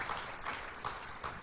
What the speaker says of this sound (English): give a round for Paul Watson, give a round of applause for him.